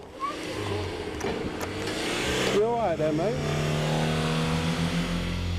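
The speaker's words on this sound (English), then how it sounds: "he hears a car revving its engine near the front gate" A car engine hums and revs near a front gate under a man's brief casual greeting, with a steady drone filling the background.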